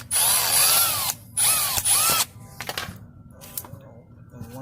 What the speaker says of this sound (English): I'm gonna drill a hole here.